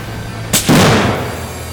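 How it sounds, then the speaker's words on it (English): Gunfire at a shooting range, a single loud close boom with a sharp crack followed by a rolling rumble that fades out. "one of the things that we really please is to shoot guns like crazy"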